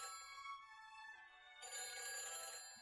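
A phone rings in the Nancy Drew: The Phantom of Venice game, a sustained electronic trill that pauses briefly and then rings again louder, with no voices.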